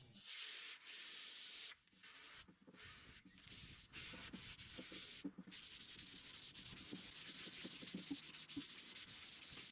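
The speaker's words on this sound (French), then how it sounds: "J'ai poncé à l'eau avec du grain 400 pour abraser légèrement la finition et obtenir une surface lisse." Wet sanding the finish of a plywood armchair by hand with 400-grit paper, a steady close rasping rub in long back-and-forth strokes with a few short breaks, quiet overall and without any voices.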